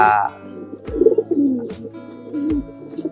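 A pigeon coos in low, rolling phrases, close and fairly loud, with a couple of soft repeated calls and some faint background noise.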